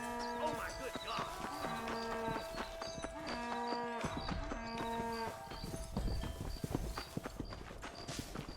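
Cattle moo in Red Dead Redemption on PS3: several deep, drawn-out moos over steady clip-clopping hooves, with voices talking and game music in the background.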